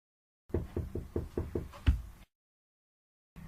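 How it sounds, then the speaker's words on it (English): A series of about seven firm knocks on a wooden door in a steady rhythm, the last one loudest, followed by silence and a faint sound at the end. "I knocked one more time"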